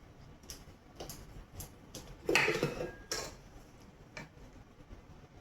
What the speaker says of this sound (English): And I will scrape my bowl down again too